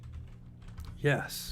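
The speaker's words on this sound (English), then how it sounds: "That's so much of a yes, I'm going to type it in." Brief burst of computer keyboard typing, a few quick clicks following a short spoken word.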